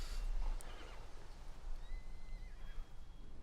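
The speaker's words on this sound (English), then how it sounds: "We've got horses next to them as well." A horse whinnies loudly in the video game Civilization 7, a single high shaky neigh followed by a short snort and faint hoof-like clatter, heard alone without talk.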